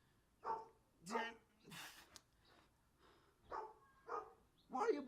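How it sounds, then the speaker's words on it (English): A dog gives a series of short, breathy barks and snorts at irregular intervals, fairly close and moderately loud. "Why are you barking at me?"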